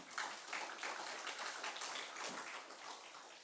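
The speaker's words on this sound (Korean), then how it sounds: "함께 살고 싶으면 박수 한번 세게 쳐봐요" A church congregation claps hands loudly during a Sunday worship service, a brisk, dense run of many hands clapping fairly close, steady for a few seconds with no speech.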